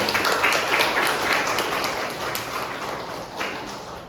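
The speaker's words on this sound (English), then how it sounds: "Give applause for them." An audience at a student presidential and vice-presidential debate claps steadily, a dense, even patter of many hands that slowly thins without fading out.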